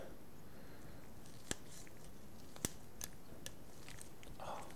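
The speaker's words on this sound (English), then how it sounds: "just cut a little off the back." Scissors snip a small piece of material during an electronics kit build, giving a few sharp, isolated cuts spaced over several seconds against a quiet background.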